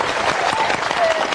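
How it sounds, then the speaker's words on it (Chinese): A studio audience on a television variety show claps in a brief burst of applause, a dense patter of many hands at close range, while a voice speaks over it. "掌声鼓励一下"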